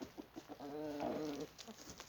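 Chickens on a farm, including Indian-cross hens about six to nine months old, give a few short clucks and a longer drawn-out call at close range, with no talking.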